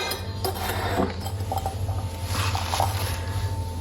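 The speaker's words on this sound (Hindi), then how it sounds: "ये वाले बर्तन उठाऊँ, समेटूँ इनको और फिर आटा गूंदती हूँ।" Steel utensils and pots clink and knock as they are gathered up in a home kitchen, a few scattered light metallic taps over a steady low background hum.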